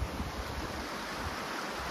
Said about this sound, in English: the creek noise is pretty loud